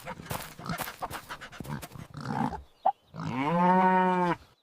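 A cartoon dog pants in rapid breathy bursts, followed by a long, drawn-out, moo-like animal call, all loud and close.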